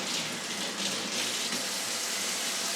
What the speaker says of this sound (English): So just give me a minute while I just run this in the water.